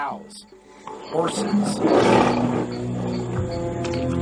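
A lion roars loudly and close, a deep, swelling growl that peaks mid-clip and tails off, set over a low rumbling bed of wild-animal sound.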